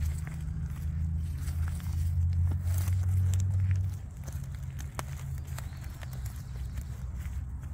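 Hooves of a gentle, tame criollo horse, a blue roan overo, clip-clop as it walks, steady and fairly close against low rumbling background noise.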